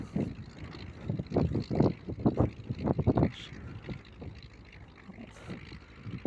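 A tractor pulling a disc harrow into a gully: a low, rumbling engine works unevenly, swelling in bursts and then easing off, with wind buffeting the microphone throughout.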